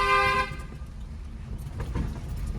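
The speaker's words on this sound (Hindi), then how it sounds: "हॉर्न दीजिए।" A car horn blares in one loud, sustained toot for about half a second, followed by the low rumble of the idling car and faint interior clicks.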